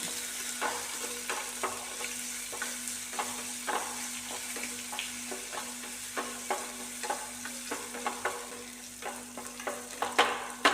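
Spring onion stalks sauté in a pan for a Kerala upperi, a soft continuous sizzle broken by regular scraping stirs and light clicks of a spoon.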